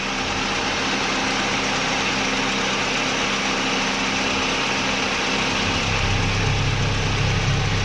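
An old car's engine idles with the oil filler cap removed, a steady, loud mechanical drone with constant vibration close by and no speech, its low rumble deepening slightly near the end.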